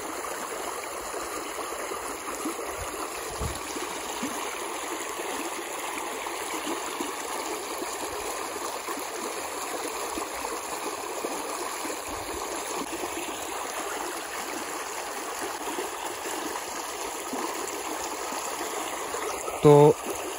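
Irrigation water flows and trickles steadily along a channel in a farm field, a continuous moderate rushing that holds evenly throughout, with a brief bump near the end.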